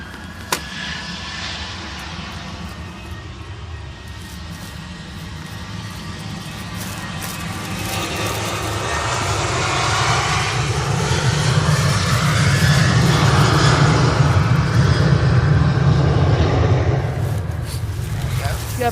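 An aircraft in special livery at Manchester Airport passes with a steady engine roar that swells louder midway and holds, while a nearby person talks over it.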